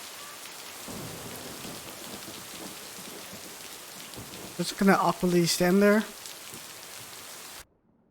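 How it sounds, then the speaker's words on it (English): Steady rain falls throughout, a close, even hiss, while a person speaks briefly over it partway through before the sound cuts off abruptly. "in the rain."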